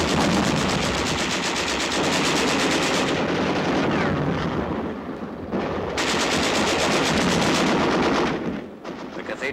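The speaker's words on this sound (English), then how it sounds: "There is some machine gun fire and occasional shells, but little concerted resistance." Wartime combat on a road into a besieged city, with dense bursts of machine gun fire and occasional shell blasts, loud and continuous, rolling with brief lulls near the end.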